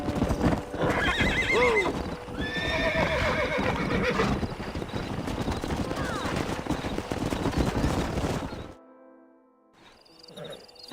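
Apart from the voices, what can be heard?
stallion neighing and hooves in Red Dead Redemption video game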